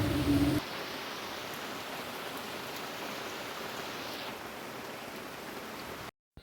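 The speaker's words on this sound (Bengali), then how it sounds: "মুসুলধারে বৃষ্টি হচ্ছে প্রচুর জোরে বৃষ্টি হচ্ছে" Heavy torrential rain falls as a dense, steady hiss of broadband noise, loud and constant, with a brief louder patch at the start and a sudden cut near the end.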